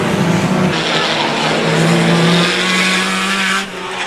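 Banger race cars in a full-contact race at Stansted Raceway, a loud, continuous roar of several engines, with tyres squealing and skidding throughout and the din easing slightly at the end.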